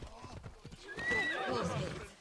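Hooves clip-clop in a quick rhythm, then a horse gives a loud, drawn-out whinny, close and clear, with a synthetic game-like quality, from Assassin's Creed Odyssey.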